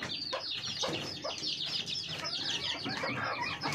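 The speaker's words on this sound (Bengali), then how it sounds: "এগুলো হচ্ছে আমার দেশি মুরগি, এগুলো হচ্ছে পূর্ণবয়স্ক বড় মুরগি।" Adult native (deshi) chickens on a small family farm clucking and calling, several birds overlapping in a busy, close chorus with occasional wing flaps.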